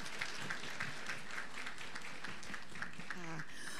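Guests clapping for the groom's side during a Thai wedding procession ceremony, a moderate crowd applauding steadily while a voice talks over the clapping, with a brief tonal sound near the end.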